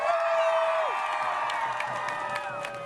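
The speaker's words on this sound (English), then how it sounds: "Give a round of applause to George." Crowd at an Ottawa organ transplant association event cheering and applauding for George, steady clapping with whoops and shouts under a sustained tone that glides down.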